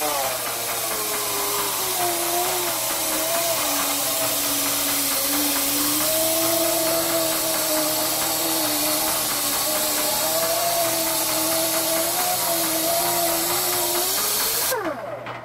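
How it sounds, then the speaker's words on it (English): A disc sander works over a copper water tank spinning slowly in a lathe, giving a loud, continuous motor whine with wavering tones over a steady hiss. It runs unbroken for about fifteen seconds and cuts off abruptly at the end. "I'm going to go over this with the disc sander one more time."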